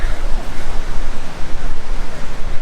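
Sea waves washing onto a beach in Puducherry, India, a steady broadband roar of surf that continues without a break and stays loud throughout.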